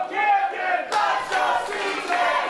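Wrestling crowd at a Skyfire Pro Lucha Libre show chanting and cheering in loud, sustained waves of massed voices, with rhythmic rises and a sharp swell partway through.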